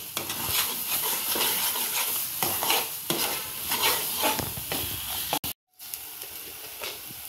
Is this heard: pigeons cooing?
no